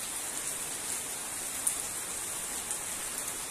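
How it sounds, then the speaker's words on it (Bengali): Heavy rain pours down steadily in a dense, even hiss of drops striking surfaces, loud and continuous throughout, with no voices. "প্রচণ্ড বৃষ্টি হচ্ছে,"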